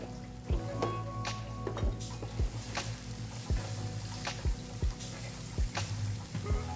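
Dry spices, including coriander powder, cumin powder and salt, sizzle steadily in a pan on a tawa, with a spatula scraping through them in regular strokes, close and alone.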